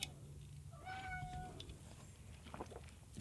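A pet cat gives one clear, faint meow indoors, a short rising-then-falling cry under a quiet room background.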